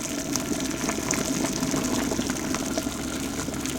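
Water heating in a home brew boil kettle with both electric elements on full, giving a steady, fairly loud rushing and bubbling hiss with a constant low hum, no voices.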